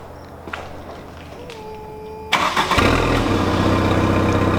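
A stock Mk3 GTI engine cranks and catches after a quiet stretch with some small handling noises, then settles into a loud, rumbling idle close by.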